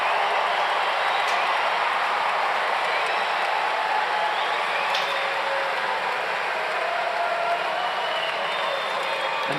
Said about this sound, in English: And that was a big roar from the crowd